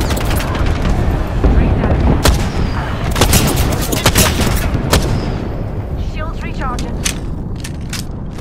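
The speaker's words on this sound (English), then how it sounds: "Airstrike." An Apex Legends airstrike pounds the area in a dense, loud barrage of booming explosions and rattling gunfire that continues without a break to the end.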